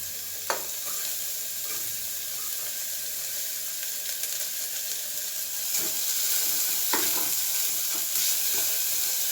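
Three vegetables, including potato, fry in a pan for a palak veggie bath, a steady close sizzle with occasional scraping stirs of the spatula throughout, no voices.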